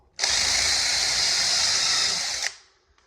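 A power drill drilling into wood whirs steadily at high speed for about two seconds, close and loud, then winds down and stops.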